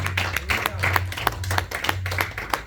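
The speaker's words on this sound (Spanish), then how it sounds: "Denles aplauso al Señor y alábenle." Church congregation clapping in praise during a worship service, rhythmic sharp claps repeating in a steady beat over a low sustained hum, with some voices mixed in.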